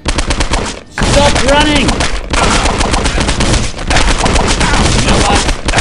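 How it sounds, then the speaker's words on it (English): Rapid, loud Glock pistol gunfire in the video game Postal 2, dense bursts of shots with brief gaps, while someone shouts over the firing. "Let's use a Glock until the Glock runs out of ammo"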